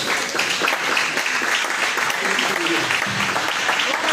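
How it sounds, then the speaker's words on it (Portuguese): A church congregation applauding during a Sunday morning service, a thick continuous wash of many hands clapping with faint voices mixed in beneath. "Você pode aplaudir o Senhor"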